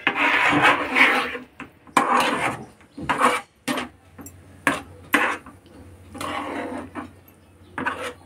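Besan batter stirred in a pan with a utensil, giving repeated close scraping and rubbing strokes in uneven bursts, separated by short pauses.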